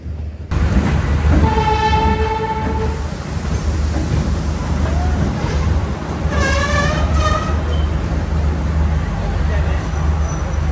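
A Nepal Railway train's horn blares twice over a rumbling engine at Khejuri station, with crowd chatter and people talking around a busy platform.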